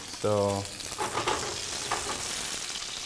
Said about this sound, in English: Saute the vegetables there